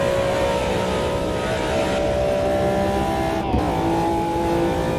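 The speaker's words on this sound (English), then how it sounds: "Flat out through here, 315 kilometers an hour." Simulated race car in Automobilista 2 runs flat out at about 315 km/h, giving a loud, continuous high-revving engine drone with a brief shift blip partway through, close and steady with no talking.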